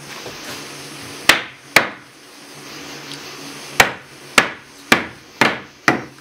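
Hammer blows on wood while framing a cabin, seven sharp, loud strikes in two irregular clusters with quiet gaps between them, no talking.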